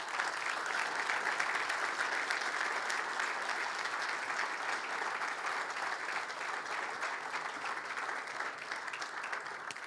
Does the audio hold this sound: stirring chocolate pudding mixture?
no